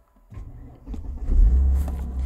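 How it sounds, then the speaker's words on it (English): A Mercedes SL engine cranks and catches, then settles into a low, close rumble that swells as it idles, with no talk over it. "What we should do is just start the car."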